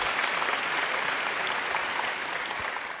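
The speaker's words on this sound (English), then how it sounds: "Give yourselves a virtual round of applause one more time." Steady applause from an audience at a virtual award ceremony for a state science and engineering fair, a dense wash of clapping that holds evenly throughout.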